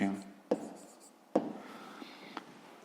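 A few short, quiet handwriting strokes while working a school maths exercise, with soft breathy voice sounds between them.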